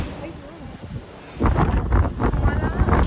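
Strong wind on a building terrace buffets the microphone in loud low rumbling gusts, lighter at first and then roaring harder, with someone speaking under the noise.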